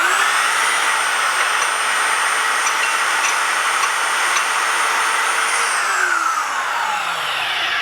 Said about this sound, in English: when I hit the trigger on the switch for the motor, it's going to spin